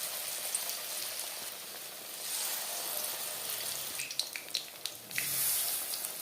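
Pumpkin flower fritters frying in hot refined oil, two at a time, make a steady soft sizzling hiss with a few sharper crackles and pops toward the end.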